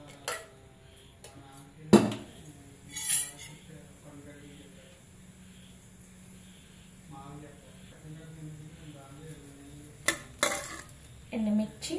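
Dried red chillies and coriander seeds fry in hot oil for tomato chutney, giving a low steady sizzle with a few sharp clinks of a spoon against the pan and some scraping stirs.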